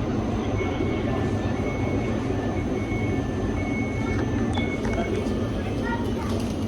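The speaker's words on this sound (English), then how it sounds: "This is the train to Bologna." A train rumbles steadily at a railway station in Italy, a low continuous roll with faint high squeals and clanks over it, loud and close throughout.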